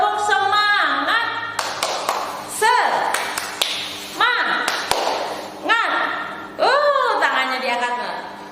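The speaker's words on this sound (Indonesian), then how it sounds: "Boleh tepuk semangat dulu biar pagi ini kita semangat." Bursts of rhythmic spirit clapping by a first-grade class alternate with a bright adult voice calling out, the claps landing in short patterned sets.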